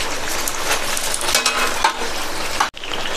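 Raw banana bajji sizzling steadily in hot oil as the fritters are turned one by one, with continuous close frying crackle, a brief metallic utensil clink and a short break near the end.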